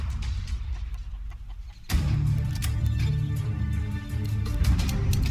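Chickens in the Counter-Strike: Global Offensive video game cluck in short bursts, fairly faint beneath busier game noise that rises sharply partway through.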